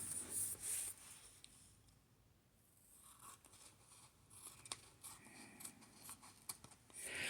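Scissors trimming the bottom piece of paper for a faith journal notebook: a few quiet, close snips and paper rustles, with a softer pause in the middle and no speech.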